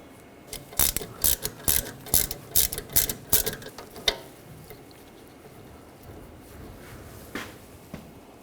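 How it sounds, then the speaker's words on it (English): A hand ratchet with a 7mm hex socket turns out caliper slide pins on a 2006-2010 BMW 550i, giving a rapid series of loud, close clicking bursts, then a few sparse clicks and softer metallic handling. "Using a 7mm hex socket, we're going to take these two caliper slide pins out."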